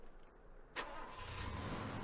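A car engine in Far Cry 2 cranks and catches with an abrupt start, then settles into a steady, low running rumble, heard alone without talk.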